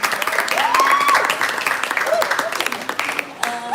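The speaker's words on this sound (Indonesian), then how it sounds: "terima kasih atas tepuk tangannya" An audience at a dance performance claps steadily and fairly loudly for several seconds, and a voice carries over the applause.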